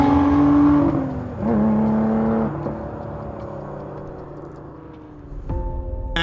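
A 2023 Lotus Emira sports car engine revving close by, a couple of loud pitch-rising blips that settle into a steady idle hum, with a sharp mechanical knock near the end.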